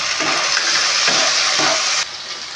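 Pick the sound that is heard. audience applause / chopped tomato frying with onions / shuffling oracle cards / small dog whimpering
chopped tomato frying with onions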